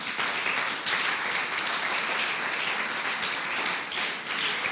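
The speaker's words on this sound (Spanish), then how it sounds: "Dale un fuerte aplauso al que vive." A church congregation claps in strong, continuous applause during a sermon, a dense even wash of hand claps from many people filling the room.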